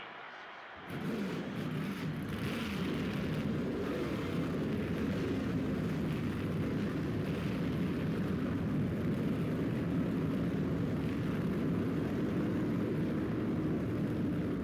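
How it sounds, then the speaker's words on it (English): Racing video game at Daytona with a full field of race car engines firing up after a brief silence, then a loud, steady, rumbling roar of many engines idling together that continues unbroken to the end. "Gentlemen, start your engines."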